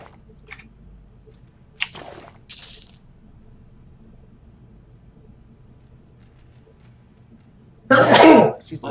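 After a stretch of near silence with a couple of faint clicks and a cough-like burst, a single sharp, loud sneeze erupts close to the microphone at the end.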